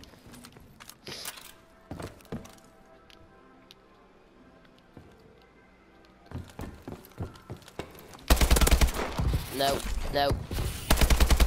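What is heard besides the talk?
gunfire in a video game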